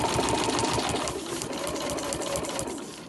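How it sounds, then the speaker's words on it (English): Sewing machine running a seam with back stitches on an overlocker cover, a fast continuous mechanical whirr and needle clatter, close and steady, with a brief change in pace partway through. "And I'm just going to start sewing now. A few back stitches to begin with."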